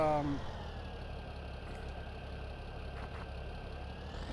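A tractor engine in Farming Simulator 17 settles into a steady, rumbling idle after a brief start-up whine, running continuously at moderate level with no talk over it.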